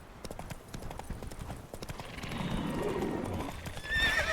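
Hooves of the horse Roach clip-clop steadily at a gallop in Witcher 3, with a whinnying neigh rising near the end over game ambience.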